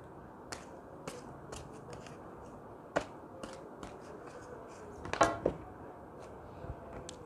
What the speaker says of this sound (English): let me pick out three more cards for you